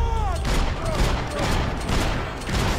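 Gunshots in the Max Payne 3 video game crack out repeatedly over a busy, loud game soundscape, with voices talking throughout.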